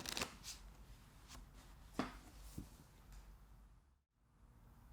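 A deck of playing cards shuffled by hand during a card magic lesson: several crisp riffling bursts and snaps, close and fairly quiet, with no talking, ending in a brief silence.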